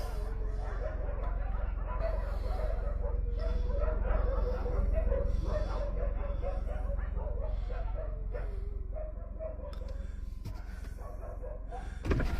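Several frightened dogs bark, yip and whimper in rural Ethiopia, a continuous overlapping chorus of yelps and whines at moderate distance, with a sharp louder yelp near the end.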